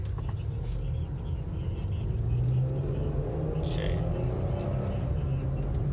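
A 2007 Chevrolet Impala LT pulls away as its engine hums in a steady, moderate rumble from inside the cabin, with faint muffled voice sounds over it.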